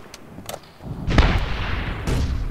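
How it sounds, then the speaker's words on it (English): Grenade blast in a Call of Duty match: a few sharp distant pops give way to a loud booming explosion with a rolling rumble, then a second burst of noise as the debris settles. "He just threw a grenade."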